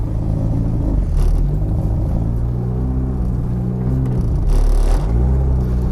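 A turbocharged Eagle Talon on a test drive, its engine a steady low rumble with a couple of brief rises in revs, heard from inside with no talking.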